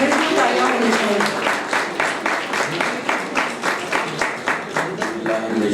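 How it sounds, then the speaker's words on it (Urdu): Audience applause at a Pakistani poetry gathering (mushaira), a dense burst of clapping that swells and settles in rhythmic waves over several seconds while voices murmur underneath. "بھرپور تالیاں ہونی چاہیے"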